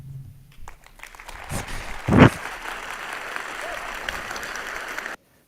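Audience applause after a spoken-word piece starts hesitantly with scattered claps, then builds into steady clapping with a few louder hits and cuts off abruptly.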